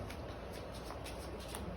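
A deck of playing cards is riffle shuffled close up at a magic competition, a quick soft flutter of cards snapping together that lasts under two seconds.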